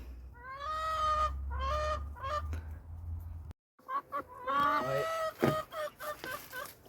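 Hens in a backyard coop squawk and grumble, upset at newcomers, with repeated harsh honking calls in bursts, a brief gap, then more agitated clucks and squawks close by.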